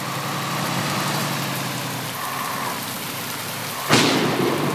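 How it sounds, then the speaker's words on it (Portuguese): A heavy downpour in Universal Truck Simulator, loud steady rain hiss with a rumbling truck engine beneath, then a sudden sharp thunder crack near the end that rolls on over the rain. "Mas deu um trovão, mas um trovão."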